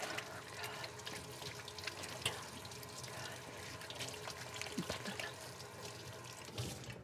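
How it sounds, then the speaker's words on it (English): Hands being rinsed under a running kitchen tap during a bread-making session: a steady, fairly faint wash of flowing water lasting the whole stretch, with no talk. "And I'll just rinse my hands."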